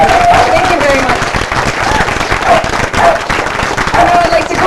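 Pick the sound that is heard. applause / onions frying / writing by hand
applause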